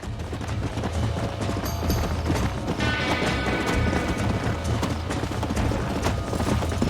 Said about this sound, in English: E o cavalo corre, hein?